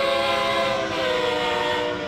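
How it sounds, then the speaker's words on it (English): Amtrak Acela Express train horn in the Train Sim World 3 game, one sustained multi-tone blast held for about two seconds, loud and alone with no talk. "Let's do a bypass of the horn."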